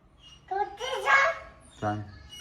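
A dog at home gives a few barks and whining yelps in two short bursts, close and moderately loud, with a quiet gap between them and a low background hum.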